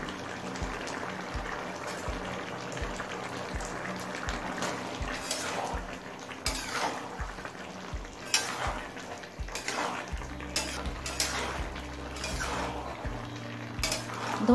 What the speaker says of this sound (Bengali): ধনে পাতাটা দিয়েও ভালোভাবে মিশিয়ে নিলাম।